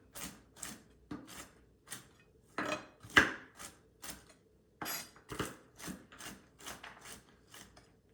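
Dates and nuts for no-bake date nut cookies chopped by knife on a board, a series of sharp, irregular near clicks and knocks with brief pauses, no talk.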